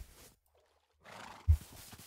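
A horse neighs briefly in a Minecraft-style video game, a short whinny after a moment of silence, ending with a low thump, fairly quiet and alone.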